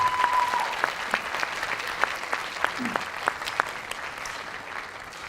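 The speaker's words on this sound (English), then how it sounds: "can we give these young people a round of applause?" Moderate audience applause at a school cattle livestock show, a steady patter of clapping with a few sharper claps standing out, fairly distant in a large arena, with a brief voice early on.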